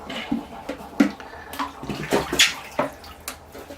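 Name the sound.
splashing water on tree roots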